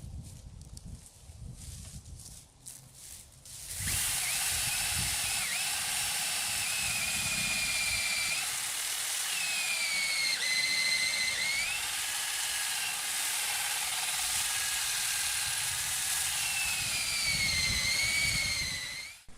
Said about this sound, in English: So I like to help the process and grind them up into a fine powder so their nutrients are released quicker into the soil.